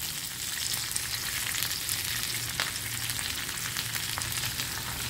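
Green chillies and asafoetida tempering in hot oil, a steady close sizzle and crackle with scattered sharp pops, alone with no voices.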